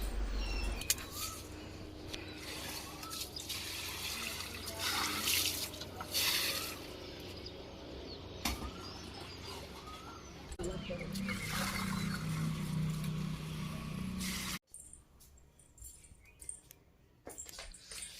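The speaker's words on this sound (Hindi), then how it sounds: "फिर डालेंगे पेड़ पौधों में पानी" Water splashes and trickles while plants are watered on a rooftop in hot, sunny weather, with drips and pouring over background noise, then it ends abruptly in quieter ambience near the end.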